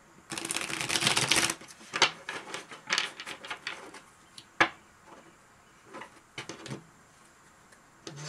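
Tarot cards riffle in a quick flurry, followed by scattered soft taps and flicks as the deck is handled and squared, fairly close and quiet.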